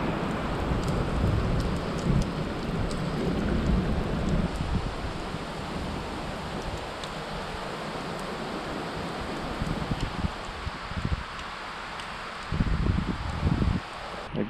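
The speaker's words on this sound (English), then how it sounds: "Yeah, that's thunder." Steady rain pours down with a low, rolling rumble of thunder underneath, the storm's roar filling the background throughout.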